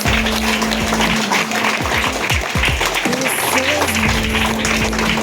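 Schoolchildren clap together at a student election in a school, a dense, steady patter of applause that fills the whole stretch while voices talk and call out over it.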